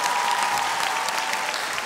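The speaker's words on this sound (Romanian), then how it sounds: "În primul rând, să vă aplaud." Applause at the Românii au talent 2023 televised talent show follows an acrobatic act, a dense, steady clapping that fills the space at an even, loud level throughout.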